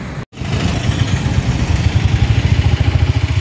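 A motorcycle engine running while riding along a road, a loud close rumbling drone with a steady pulsing beat, after a brief dropout at the very start.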